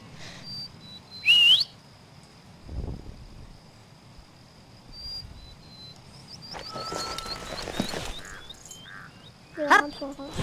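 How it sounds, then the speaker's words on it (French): In a horse-riding video game, a rising whistle calls a horse, followed later by a series of short chirpy whistle notes and a final brief whistle burst over a quiet game background. "Si tu as besoin de ton cheval rapidement, tu peux l'appeler en le sifflant."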